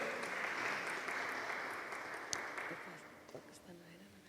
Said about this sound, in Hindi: आमिर को जोरदार तालियों में वेलकम करेंगे.